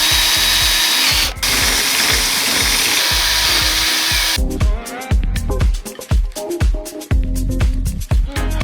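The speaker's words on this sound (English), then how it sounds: "the next thing we're going to do is just drill a hole on top" A power drill whines loudly as it bores a hole in the top of an aftermarket spoiler for an Audi R8, followed by bursts of grinding and rattling as the bit works through.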